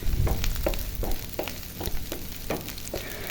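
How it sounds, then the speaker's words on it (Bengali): Onions fry in a pan, browning for an egg curry, with a continuous close sizzle and a regular rhythm of spoon strokes scraping and knocking about every half second. No voices are heard. "এখন আমি দেখুন পেঁয়াজটা ভেজে নিলাম"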